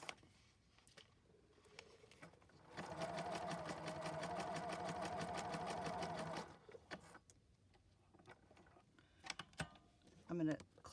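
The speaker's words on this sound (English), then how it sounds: "And just go ahead and sew that zipper in." A sewing machine sews in a zipper, running steadily for a few seconds with a fast, even mechanical whir, framed by quieter handling clicks and rustling before and after.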